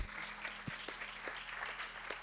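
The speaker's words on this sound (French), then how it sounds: "Veuillez l'applaudir, s'il vous plaît." Faint, distant audience applause at an awards ceremony, a soft scattered patter of clapping with a few sharper claps standing out.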